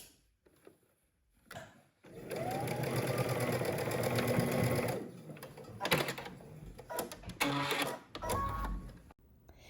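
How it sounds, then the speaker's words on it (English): A sewing machine runs steadily for a few seconds with a dense mechanical whir, then stitches in shorter bursts with pauses between. "at the sewing machine, we're gonna stitch it down using 5/8 of an inch seam allowance"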